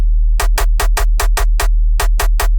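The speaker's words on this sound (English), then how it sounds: "I want to start with the sub bass and this percussive layer on top" A steady low sub-bass drone under a quick pattern of sharp, clicky percussive hits, dry and unpolished, with no voices.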